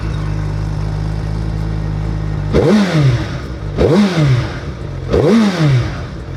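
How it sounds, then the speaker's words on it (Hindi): A big 1350cc superbike engine idles with a deep, heavy thump, then revs sharply three times, each blip rising and falling back to idle. "ये 1350 सीसी के इंजन का थंब कैसा क्या आ रहा है"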